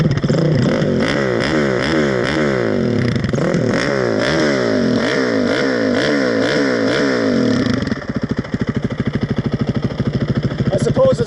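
A Honda CRF450X dirt bike with an MRD racing exhaust revs repeatedly in sharp, loud bursts, then drops to a fast, popping idle, with a harsh, crackling exhaust note.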